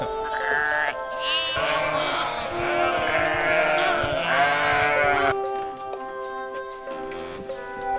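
Sheep bleat together as a flock, several overlapping calls rising and falling in a loud, dense chorus that stops abruptly, leaving quieter background sounds.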